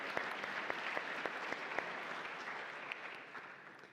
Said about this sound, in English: We give him a big round of applause for that.